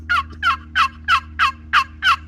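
Seven evenly spaced yelps from a bald cypress turkey call made by the late Olin Humphrey, soft and clear rather than raspy, sounding close over a steady low hum.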